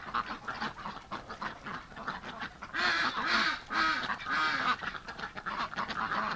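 Ducks in an outdoor winter pen give a run of loud, close honking quacks midway, set against a busy background of lesser calls and rustling.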